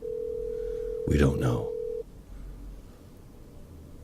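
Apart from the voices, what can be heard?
telephone ringing on an outgoing call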